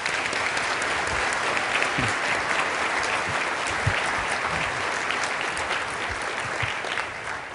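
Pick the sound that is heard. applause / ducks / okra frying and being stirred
applause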